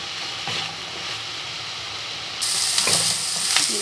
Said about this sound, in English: Gisa natin hanggang maamoy natin yung mabangong amoy ng onion.